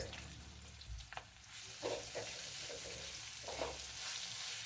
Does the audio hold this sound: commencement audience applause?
no